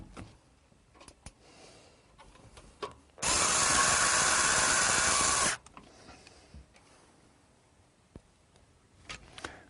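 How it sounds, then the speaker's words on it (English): A power screwdriver drives screws to fasten a PC power supply into its case: one steady, loud whirring burst of about two seconds, with quiet handling noises before and after. "then I will put in the screws"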